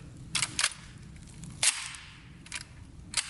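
A Bulgarian AKSU-74 rifle chambering a round, with several sharp metallic clicks and clacks spaced out over a few seconds at close range, a faint low hum between them.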